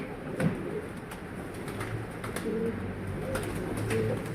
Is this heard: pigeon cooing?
yes